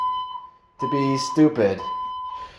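A building fire alarm on a fourth floor sounds as a steady, piercing high-pitched tone that runs continuously while someone talks loudly close by, her voice partly covering it.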